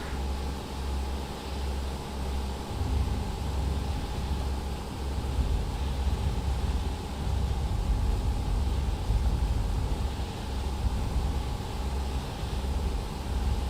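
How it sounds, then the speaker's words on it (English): Broadband wind and air rush fills the cabin of a small plane in flight, a steady, moderately loud roar with a low engine drone beneath and slight surges, no voices present. "there's a lot of air resistance on the plane right now"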